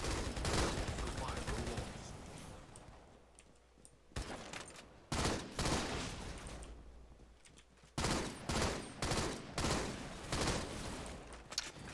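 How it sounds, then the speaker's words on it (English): Assault rifle fire in the Halo video game comes in repeated rapid bursts, loud and dense, broken by short pauses and a near-silent gap before the shooting resumes. "if they drop their shields with assault rifles, then it's pretty good"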